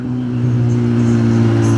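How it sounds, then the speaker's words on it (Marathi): A car engine drones steadily on a road at night, its low, even hum holding close and fairly loud for under two seconds with no voices. "रात्र झाल्यामुळे ना नुसता गाडीचाच आवाज येतोय"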